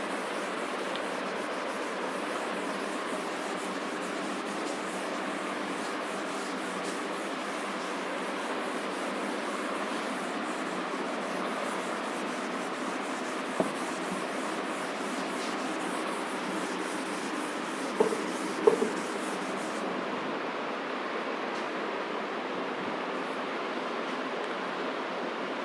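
Continuous soft rubbing goes on for a long stretch at an even, quiet level, close by, with only a few tiny knocks near the end.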